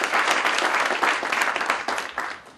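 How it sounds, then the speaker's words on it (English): A crowd at a groundbreaking ceremony for a new Safeway supermarket claps in a lively, fairly close burst of applause that thins and fades toward the end. "If we can give him a round of applause."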